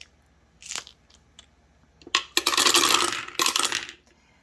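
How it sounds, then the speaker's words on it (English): Ten dice rolled together, a brief rattle, then a loud clattering tumble of several bursts across a tabletop before settling, with no talk. "we're going to roll all 10 dice"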